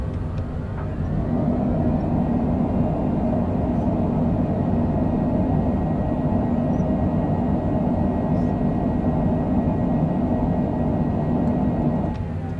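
A Cessna Citation Longitude business jet on its landing roll at Mandalay, Myanmar, with spoilers up and thrust reversers deployed, giving a loud, steady broadband engine roar and rumble that holds throughout.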